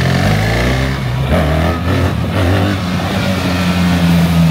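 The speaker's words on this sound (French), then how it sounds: "Accélération, gaz, t'es en I, direct." A BMW GS 1300 Adventure motorcycle accelerates hard, its engine note rising steadily and staying loud and close throughout, with a brief shift in pitch partway through and no talk.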